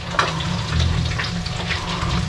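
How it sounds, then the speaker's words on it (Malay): Water being poured off fish in a cooking pan, a continuous gushing splash running close and fairly loud with no talk. "kita buang air ikan"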